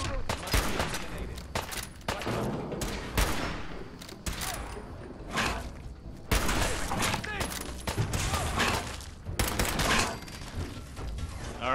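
Repeated gunfire in the video game Fallout 4, with sharp shots and rapid bursts scattered throughout under intermittent talking.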